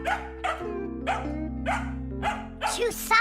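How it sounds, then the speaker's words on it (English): A dog in the Fixies children's cartoon gives a series of about seven sharp, clear barks at a steady pace, the last few louder and higher, over a sustained musical hum. "Come on, she's just a dog."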